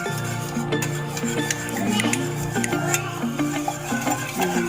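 A spoon or whisk stirs Ogura cake batter in a bowl, making a steady, soft scraping and swishing close at hand over a continuous tonal background.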